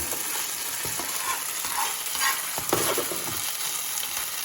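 Breakfast burrito filling fries and sizzles steadily in a pan while being browned, with soft scraping stir strokes and occasional taps over a constant hiss. Nobody speaks.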